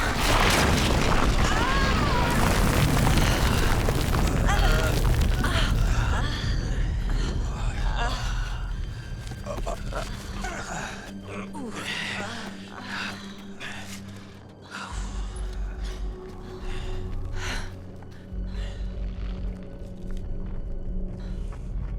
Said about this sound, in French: Secousse!